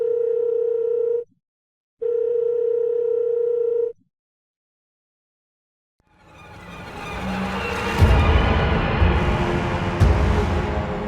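A phone held in someone's hand rings with two long, steady electronic tones separated by a short pause, then a silence, followed by a rising, rumbling wash of louder noise.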